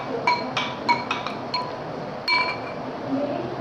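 A spoon clinks sharply against a glass bowl several times in an irregular rhythm while mango custard is mixed, each ping bright and close, with a quiet background.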